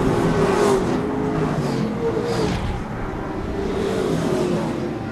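Late model race cars roar around an oval track at the Fall Classic, engines droning loud and continuous with rising and fading passes, no talk over them.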